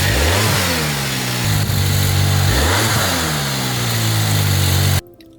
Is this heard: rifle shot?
no